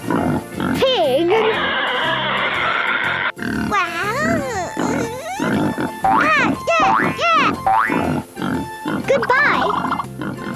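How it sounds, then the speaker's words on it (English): A cartoon pig oinks and grunts in squeaky, bouncy bursts from an old animated short, loud and close, mixed with playful music and cartoon sound effects. "Pig."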